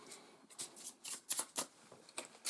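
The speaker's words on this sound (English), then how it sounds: "Alright, so we've got to shuffle these." Board game cards being shuffled by hand for a tabletop game, a run of quick riffling bursts and soft flicks of differing loudness, close and quiet, with no talking.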